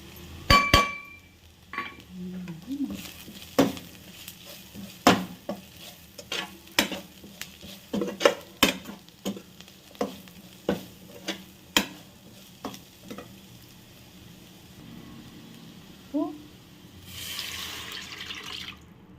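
Cumin, ginger and garlic fry in a pan and are stirred, with a sequence of sharp spoon scrapes and knocks over a faint sizzle, and a brief splash of water near the end.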